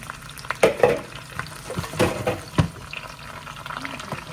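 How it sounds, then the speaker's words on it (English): Chopped, washed Brussels sprouts, potatoes and onions stir-fry in a pan with an uneven, wet sizzle, broken by several loud clattering stirs and scrapes at close range. "So I got them all chopped up here, washed and ready to go into that pan. And we're just gonna stir fry them there."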